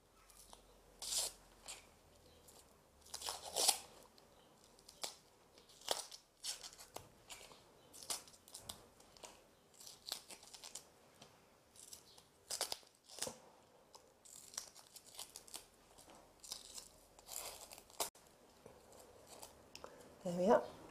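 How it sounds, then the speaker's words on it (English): A knife slices the top layer off a vegetable on a chopping board while preparing bean chilli, giving a string of soft crunchy cuts and taps in an irregular rhythm under a person speaking. "so we'll cut that layer off as well."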